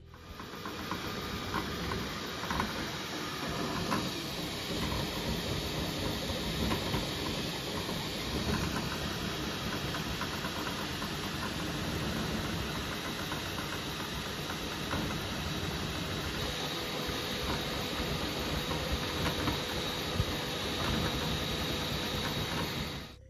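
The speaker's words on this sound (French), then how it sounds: "Donc normalement, il va aller plus vite et il va risquer aussi de s'imprimer moins bien." A Geeetech Thunder 3D printer running fast in crazy mode gives a steady hissing, whirring drone with faint rhythmic clicks, continuous and close, with no voices.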